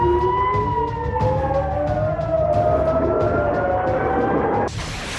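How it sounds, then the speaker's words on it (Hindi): Air raid sirens wail over settlements in northern Israel such as Kiryat Shmona during a Hezbollah attack, several loud overlapping tones slowly gliding up and down against a rumbling background before cutting off abruptly near the end. "सेटलमेंट्स में हवाई हमलों के सायरन बजने लगे थे"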